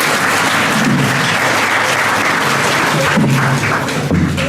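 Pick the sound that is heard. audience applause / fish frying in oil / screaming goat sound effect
audience applause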